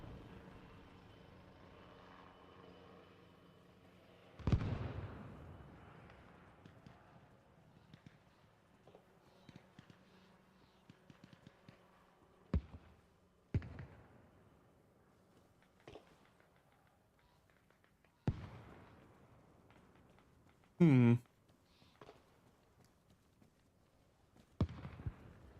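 Grenade blasts in the military shooter Arma Reforger: several sharp, loud explosions spaced irregularly over a quiet battlefield background, no talk.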